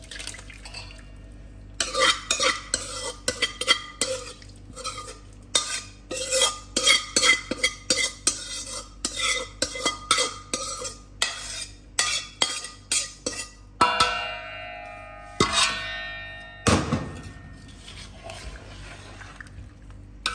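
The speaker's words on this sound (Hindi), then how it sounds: "बिल्कुल हल्के हाथ से आपने हिलाना है इसको कि ये टूटने ना पाए।" Mixed pickle being stirred gently in a cooled kadhai, with a run of close, irregular scraping and clinking strokes followed by a few sharper metallic knocks and some liquid sounds near the end.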